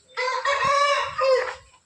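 A single loud Aseel rooster crow, harmonic and sustained for over a second with a rising then falling contour, close by with no talk.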